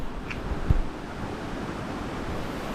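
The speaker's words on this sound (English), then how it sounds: "I think I found the waterfall." Waterfall on the Bolaven Plateau in Laos, a steady broadband rush of falling water mixed with wind noise on the microphone, continuous and fairly distant, with a brief low thump near the start and no voices.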